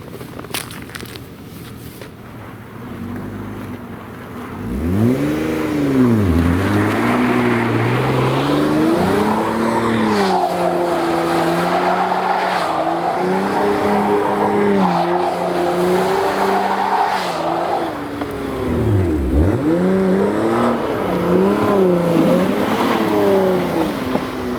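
A Hyundai Tiburon with front-wheel drive drives and slides across packed ice and snow. The engine rises and falls as it revs, and the tires scrub and squeal through long skids, loud and close.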